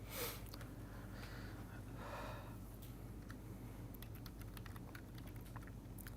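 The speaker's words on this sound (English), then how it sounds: "I will go ahead and type it" Sparse keystrokes on a computer keyboard, close and quiet, come as a few scattered clicks and short bursts over a soft breathy background, with no talking.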